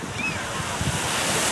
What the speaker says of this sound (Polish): To jest najładniejsza plaża w Trójmieście.